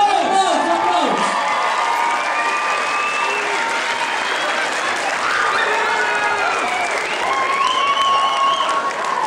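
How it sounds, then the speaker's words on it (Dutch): A school music-night audience applauds a group of girls and their fathers arriving for a father-daughter dance, steady dense clapping with scattered cheers and voices throughout. "Applaus!"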